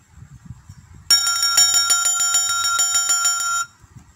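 A bright notification bell chime rings out loud and clear for about two and a half seconds, a rapid shimmering run of metallic tones, with muffled voices faintly before and after.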